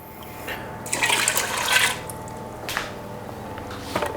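Coconut milk and water poured into a cooking pot in a home kitchen, a couple of short liquid glugs and splashes close by, with faint handling noises between pours.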